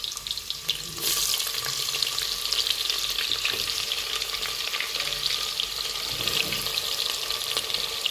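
Chopped onion dropped into about four spoons of hot oil, a sudden loud burst of sizzling that then holds as a steady, dense, close frying hiss.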